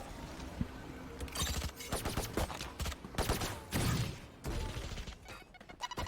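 Automatic rifle fire in a Valorant esports match, rapid bursts of shots cracking through a smoky site, with scattered impacts and clatter spread across several seconds, no voices.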